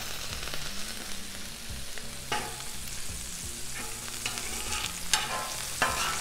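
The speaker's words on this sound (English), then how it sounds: "And let's throw some butter, or actually a little bit of oil." Butter and a little oil sizzle steadily on a Blackstone griddle, a continuous close frying hiss with occasional sharper crackles and spatula scrapes, no voices.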